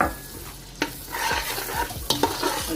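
A spoon scrapes and clatters through chicken pulao in a hot pot as cumin and black pepper are mixed in, with a close, lively sizzle and a couple of sharp utensil knocks.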